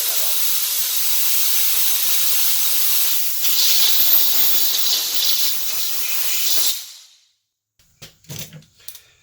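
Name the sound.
air blower blowing out a spray gun's air passage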